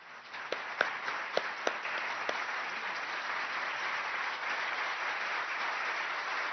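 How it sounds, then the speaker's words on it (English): Audience applause at an awards ceremony, a steady dense wash of clapping with a few sharper individual claps standing out early, sustained and even throughout. "They deserve a huge round of applause"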